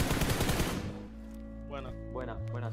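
Gunfire from a weapon in the PUBG Mobile video game, a dense loud burst of rapid shots over the first second, then quieter game sounds with a voice talking.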